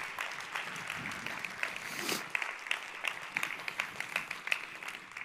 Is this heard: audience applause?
yes